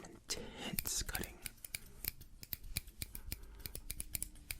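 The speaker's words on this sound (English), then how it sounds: "Luckily, I got my heavy-duty scissors." Heavy-duty medical-grade scissors snip hair in close-up during a barber roleplay, a rapid irregular series of crisp metallic clicks and cuts with soft whispering underneath.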